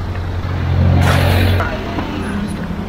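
A car passes close by on a Jakarta road, its engine rumble swelling loud then fading, heard from beside the roadway amid steady traffic noise.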